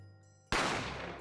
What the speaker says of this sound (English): I didn't have time to think about where the sound of the gunshot had come from.